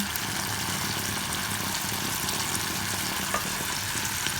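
An egg goes into a pan of sautéed tomatoes and fries with a dense, even sizzle that stays loud and steady throughout, with no voices.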